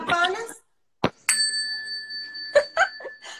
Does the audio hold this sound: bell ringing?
yes